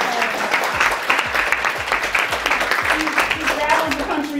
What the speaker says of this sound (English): Let's give her a hand clap, everyone.